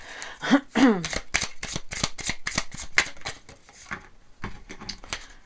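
A deck of tarot-style cards being shuffled in a run of quick, crisp riffling flutters that repeat steadily for several seconds, close and fairly loud, with a short pause near the end before the shuffling resumes.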